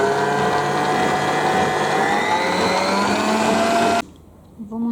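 An electric mixer whirs loudly and steadily while cooled gelatin is beaten into a cake mousse, its pitch slowly rising, then cutting off abruptly near the end, leaving a quiet room.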